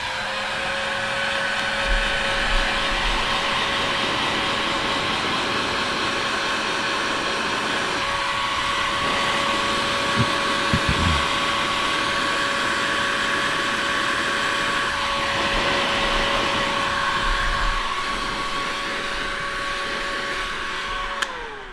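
A heat gun shrinking heat shrink tubing during a motorcycle dash relocation wiring job, blowing as a steady loud whirring hiss with a constant tone that runs on without a break and a few faint clicks partway through.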